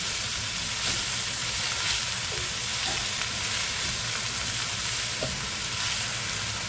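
Swiss chard greens and mushrooms sizzling hard in a hot pan as their liquid cooks off, a dense, continuous hissing crackle, close and steady for the whole stretch.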